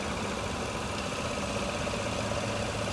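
A 2015 Chevrolet Silverado 1500 Regular Cab's 4.3 liter Ecotec3 V6 idles with a steady, smooth low rumble, close and even throughout.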